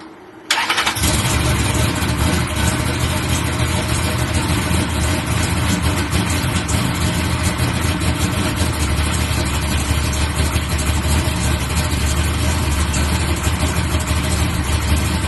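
A Big Meech box Chevy's engine idles steadily for the whole stretch after a brief quieter start, with a loud, constant low rumble and no talking.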